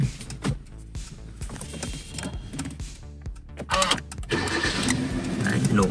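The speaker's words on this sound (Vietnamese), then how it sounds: "Nổ máy bật điều hòa cho quý vị bạn cùng xem nhé." A 2009 Kia Cerato 1.6 automatic sedan is started: after a few faint clicks and knocks, the starter cranks and the engine catches near the end, settling into a close, steady run.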